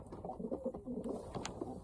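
Pigeons coo softly in a loft cage in low, rolling murmurs, faint and close together over a quiet background.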